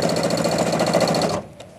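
Sewing machine stitching a finishing seam with a fast, loud, rhythmic needle chatter that runs close up and then stops abruptly, followed by a single faint click.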